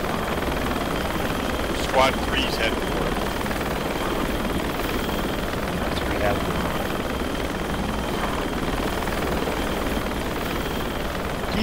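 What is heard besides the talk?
helicopter arriving for pickup in a video game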